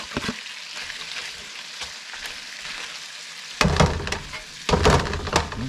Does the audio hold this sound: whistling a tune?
no